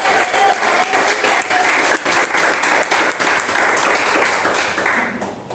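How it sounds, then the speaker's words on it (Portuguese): Loud, sustained clapping from a church congregation during an evangelical sermon, a thick wash of many hands beating steadily for several seconds before tapering off at the end. "E bate palmas agora, Deus!"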